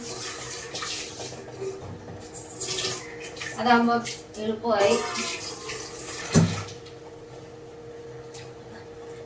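Tap water runs steadily into a pot being filled for rice gruel in a home kitchen, a continuous splashing hiss under a brief spoken remark, ending with a short clunk.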